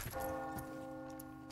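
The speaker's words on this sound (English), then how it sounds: "The bell! There's a bell!" A church bell in Resident Evil 4 strikes once and rings on with a sustained, resonant metallic tone that slowly decays, clear and alone.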